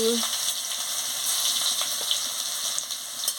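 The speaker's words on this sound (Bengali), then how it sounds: "তেল গরম হয়ে গেছে আমি শুকনো লঙ্কাটা দিয়ে দিচ্ছি রসুনের বাটা দিয়ে দিচ্ছি" Dried chili and garlic paste frying in hot oil for a Bengali mixed-vegetable chorchori, a steady dense sizzle that stays loud and even throughout.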